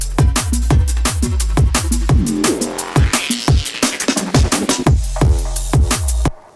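An 808 reworked as a drum and bass mid-bass plays in a full mix with punchy drums, a driving fast beat with steady kicks and snares over a growling bass, loud and dense, with no voice.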